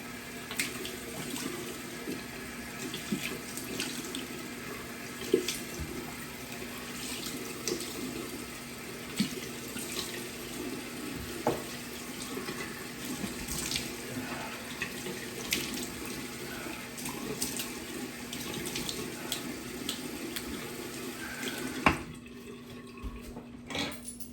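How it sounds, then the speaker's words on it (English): A shaving brush is rinsed under a running tap into a sink, with a steady close hiss of flowing water and occasional splashes, ending abruptly when the tap shuts off. "Just rinsing my brush off."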